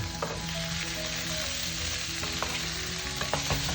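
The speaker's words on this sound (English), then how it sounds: "A little stir to incorporate the flavor." Unripe jackfruit stirred in coconut milk in a pan, with a constant close sizzle and bubbling, punctuated by occasional soft scrapes and taps of the spoon against the pan.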